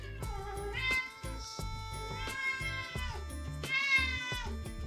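Several cats meow repeatedly in drawn-out, whiny calls over a steady background hum and rhythmic thumping, fairly close.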